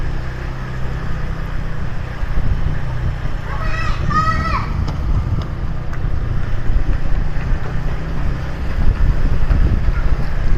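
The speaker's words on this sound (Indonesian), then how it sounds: "Ini gue bawa motor di gang begini lumayan kenceng loh" A motorcycle rides quickly through a narrow alley in Kebon Kacang, Tanah Abang, Jakarta, its engine droning steadily under wind rush, with a rider talking and a brief chirping sound partway through.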